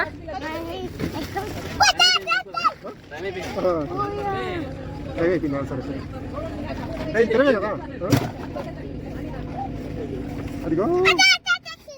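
A motorboat engine drones steadily throughout on the Godavari River, with people chattering and calling out over it and occasional shouts rising above the hum.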